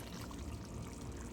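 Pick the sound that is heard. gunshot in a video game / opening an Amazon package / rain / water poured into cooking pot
water poured into cooking pot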